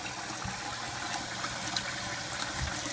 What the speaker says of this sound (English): what I'm trying to do here is I'm going to wash off as much of the starch as possible